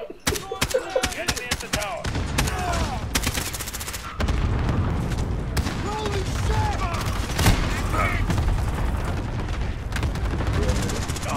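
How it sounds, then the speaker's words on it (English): Enemy cluster strike explosions in Call of Duty Modern Warfare burst in a rapid, crackling barrage, a heavy sustained rumble of blasts and gunfire with short sharp hits, loud and close. "Enemy cluster strike incoming."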